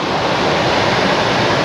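Ocean surf rolling onto a beach in La Union, a steady loud broadband wash of breaking waves with some wind rumble, no voices.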